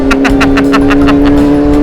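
A big motorcycle with an aftermarket exhaust runs close and loud, a steady low engine drone broken by a quick, regular series of throaty exhaust pulses.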